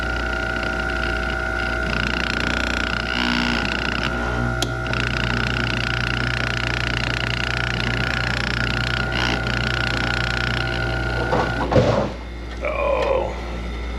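A worn, noisy Harvest Assist air pump inside an ice machine, a steady buzzing mechanical drone with rattling undertones running throughout, with a clunk and shuffling near the end.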